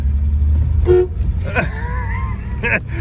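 A 1978 Chevy Malibu sounds its horn from inside the cabin, a short toot followed by a longer sustained blast and another brief beep, over engine rumble and road noise.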